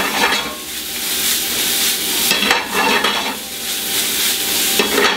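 Mushrooms sizzle in a hot pan with salt and pepper as a utensil stirs them, giving bursts of scraping and crackling frying noise over a steady sizzle. Close and fairly quiet, with no talking.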